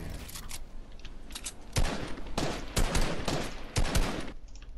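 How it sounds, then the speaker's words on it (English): Gunfire in the Fortnite video game, several loud sharp shots cracking out in bursts over a steady game background, with single reports and quick clusters spread across the moment. "You shot your gun, so I shot mine."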